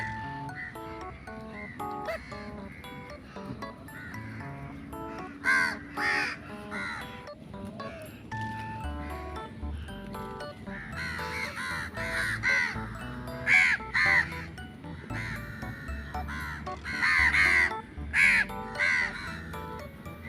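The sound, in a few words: crows cawing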